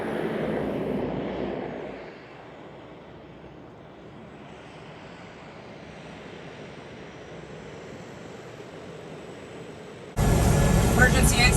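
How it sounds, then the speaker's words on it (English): A small propeller airplane drones steadily as it approaches a fly-in fishing lodge in northern Canada, the engine hum constant and moderately distant before a sudden louder burst at the end. "this happens to be our plane coming in to take us up to Black Lake"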